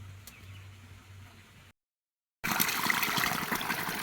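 Laundry is rinsed in water in a village, with a soft trickle, a brief silence, then a louder rushing slosh of water close by.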